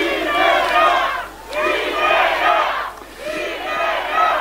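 A large crowd at an outdoor political campaign rally roars and cheers in loud, sustained waves, swelling and dipping about three times with many voices shouting together.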